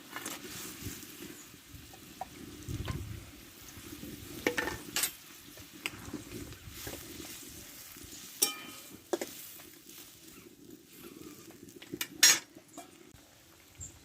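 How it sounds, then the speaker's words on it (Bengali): Fish pieces slide into a pan of mustard paste and a little water, followed by scattered clinks of utensils against the pan and soft stirring over a quiet low sizzle, with no voices. "এবার মাছগুলো ঢেলে দেবো"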